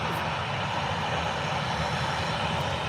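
A Boeing 737 jet at Birmingham Airport produces a loud, continuous broadband engine roar, steady and close throughout with no talk over it.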